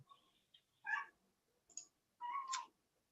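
A house cat meows several times at close range during a quiet indoor work session, with short bright calls separated by pauses and faint clicking in between.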